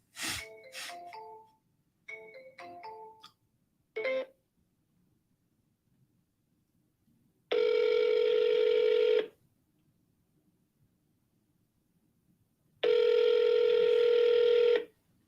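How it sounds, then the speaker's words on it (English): On an outgoing call, quick bursts of touch-tone dialing beeps come first, then after a quiet gap two long, loud electronic ringback tones sound, each about two seconds long, separated by several seconds of silence. "We finally get a hold of Mark and he doesn't even answer."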